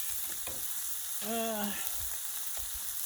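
Chicken fried rice sizzling in oil on a Blackstone griddle, a steady close frying hiss with light scraping; a brief tonal squeak briefly sits over it midway, with no talk.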